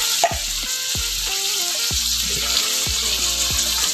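Corned beef sizzling and frying in a hot pan, a steady loud crackle with repeated scraping stirs across the whole stretch, no talking.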